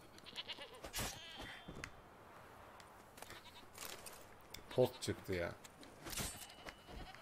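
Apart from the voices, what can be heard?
goats bleating in The Witcher 3 video game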